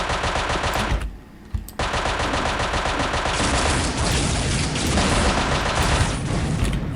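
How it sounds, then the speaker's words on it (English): M16 machine gun firing in Unreal Tournament 99, with loud, dense bursts of rapid automatic gunfire and booming impacts and a brief pause near the start, sustained and close, with no voices. "The M16 primary is a machine gun."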